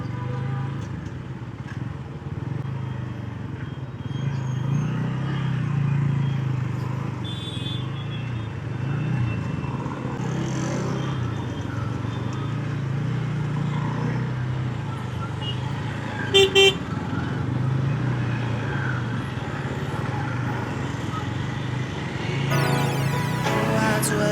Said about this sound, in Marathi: अरे यार, इथे ट्रॅफिक का झालं आहे?